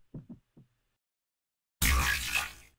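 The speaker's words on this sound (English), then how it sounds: "My heartbeat's loud and out of control" A racing heartbeat in Your Turn To Die, three quick soft thumps up front, then silence, followed by a louder rushing burst of sound.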